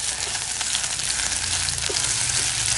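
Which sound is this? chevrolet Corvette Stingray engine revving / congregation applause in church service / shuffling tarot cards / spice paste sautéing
spice paste sautéing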